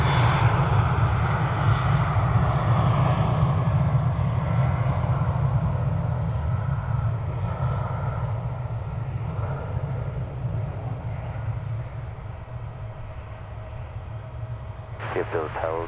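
American Airlines flight 1543 to Cancun, Mexico, takes off from DFW Airport with a powerful low jet roar that slowly fades as it climbs away, and a voice breaks in near the end.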